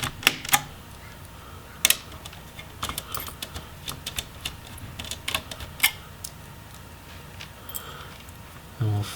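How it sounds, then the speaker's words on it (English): A screwdriver removing screws from a Dell Inspiron 15 3000 laptop's hard drive caddy: scattered small metallic clicks and ticks close up, irregular taps and light rattles of the screws. "So go ahead and remove these screws."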